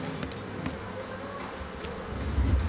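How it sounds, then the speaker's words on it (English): A dense, low buzzing hum of many bees in an open hive fills the background, steady and close, with occasional individual bees droning past. "those are all the bees"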